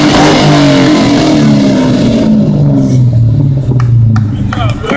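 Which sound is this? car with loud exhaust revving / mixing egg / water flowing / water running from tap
car with loud exhaust revving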